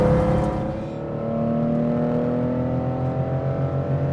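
A Porsche 911 ST engine pulls steadily in fourth gear while accelerating uphill on a mountain road, a sustained loud drone heard from inside or close to the car, with no talking.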